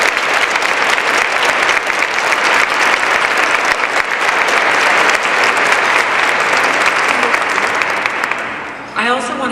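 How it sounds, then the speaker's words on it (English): An event audience in New York City gives a sustained round of applause that stays steady and loud for about nine seconds, then tapers off. "please, again, let's give Shirley a round of applause."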